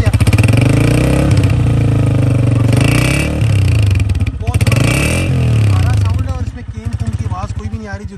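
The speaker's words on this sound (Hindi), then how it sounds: "बाइक का साउंड बहुत प्यारा है क्योंकि इंजन बहुत कॉम्पैक्ट लग रहा है" A Honda CG125 Special Edition motorcycle engine runs steadily up close, its throbbing hum rising and falling, while a person talks over it throughout.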